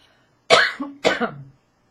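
Two sharp, close coughs in quick succession, each trailing off with a short throaty tail, then silence.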